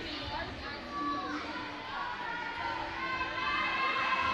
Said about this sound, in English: as the crowd is going nuts for this big save